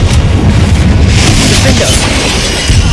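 A Confringo fire spell fired in the video game Hogwarts Legacy, a loud, sustained blast of roaring, crackling energy filling the clip, with deep rumbling underneath and a steady, dense burst throughout.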